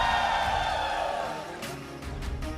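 Loud, sustained crowd cheering and whooping at an MPL Malaysia Season 14 esports playoff event, a dense roar filling the space, with a few sharp bursts of noise toward the end.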